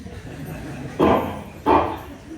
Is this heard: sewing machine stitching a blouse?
no